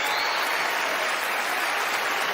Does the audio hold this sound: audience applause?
yes